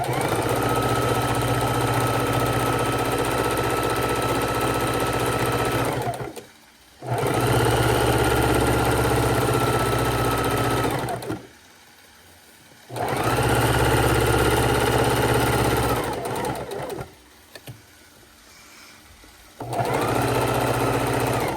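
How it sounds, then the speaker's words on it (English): A sewing machine straight-stitches around a quilt binding, running in long steady whirring bursts of several seconds, stopping briefly in between before starting again, loud and close. "I'm just doing a simple straight stitch all the way around"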